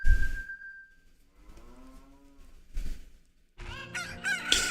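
A rooster crows in the chicken yard of Zelda: Ocarina of Time, a rising cock-a-doodle-doo near the middle, followed by a denser burst of game clucking and fowl sounds toward the end, with no talk.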